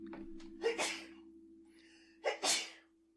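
Two sharp sneezes, the first near the start and a second about two seconds later, each a loud close burst with a short intake of breath before it, over a faint steady hum.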